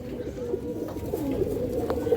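Pigeons cooing at a farm, soft low repeated coos close by, continuous over a faint background.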